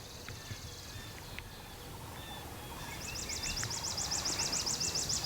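A wild turkey gobbles from a distance, a rapid rattling call rising out of soft outdoor ambience after a few quiet seconds, during a Michigan turkey hunt.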